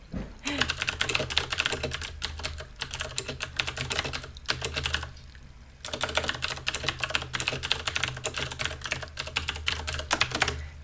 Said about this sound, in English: it's my loud keyboard.